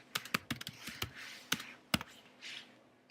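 Someone types a short folder name on a computer keyboard, a dozen or so crisp, close key taps in uneven bursts over a quiet background.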